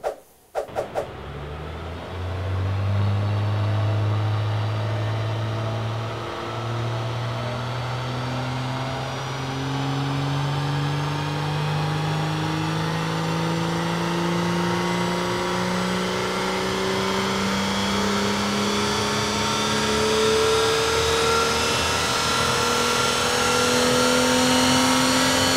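A BMW 335i E92 with the N55 engine, Stage 2 tuned, revs up steadily on a dyno, one long rising pull from low to high rpm, loud and close with no talk.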